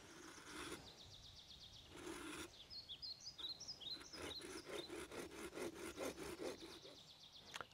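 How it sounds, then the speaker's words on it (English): A handsaw cuts two thin discs off a wooden stick to make eyes for a wooden dragonfly, giving rhythmic rasping strokes in short bursts, close and fairly quiet, with no one talking. "We're going to use this to make the eyes on the dragonfly, and we're going to do that by just cutting two discs"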